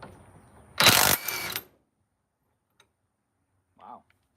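A DeWalt DCF891 impact wrench fires in one loud burst of under a second, backing a fastener off threaded rod, then goes quiet apart from a faint click and a short, soft vocal sound near the end.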